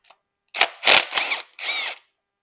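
Power tool removing rocker arm bolts on a 6.0 Powerstroke engine: four close, loud whirring and ratcheting bursts of under a second each, separated by brief silences.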